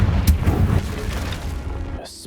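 Spell explosions go off in the video game Hogwarts Legacy, with a sharp boom near the start and rumbling blasts that fade out, over busy combat noise and a talking voice.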